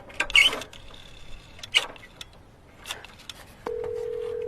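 A telephone call to the police, with a steady ringback or dial tone sounding alone after some scattered clicks and handling noises.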